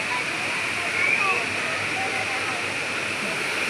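Steady, full rushing of a waterfall fills the scene, a constant roar of falling water with a brief faint whistle over it.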